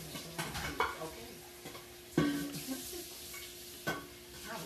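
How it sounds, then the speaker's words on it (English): Flaxseed and water whisked into a vegan egg substitute: a few quiet, sparse scrapes and taps of a utensil against a small bowl over a soft background hiss. "So you just mix that along to the consistency of eggs."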